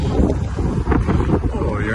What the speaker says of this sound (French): il y a un petit vent frais